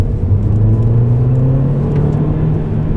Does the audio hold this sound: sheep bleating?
no